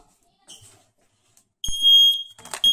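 Nest smoke detector alarm sounding in a home, a high shrill tone that begins briefly then blares loudly and steadily, with a voice speaking over it.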